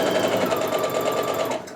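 Sewing machine stitching a quilt block, a fast, steady mechanical whir with rapid rhythmic needle pulses, close and continuous, easing off at the very end.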